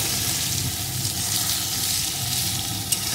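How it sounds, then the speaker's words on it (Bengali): Squeezed-dry soybean chunks fry in a pan over medium-low heat, giving a steady, close sizzle with a soft hiss throughout and a single small click near the end. "এখন সোয়াবিনগুলো সুন্দর ভেজে নেব"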